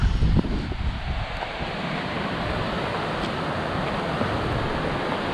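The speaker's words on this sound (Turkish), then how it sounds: "Hadi biraz şelale izleyelim." Waterfall in Norway along the Trolltunga hike, a steady broadband rush of falling water heard up close and fairly loud, continuous for the whole stretch with wind mixed in and no talking.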